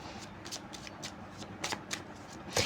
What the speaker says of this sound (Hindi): मैं कुछ और कार्ड्स लेती हूँ।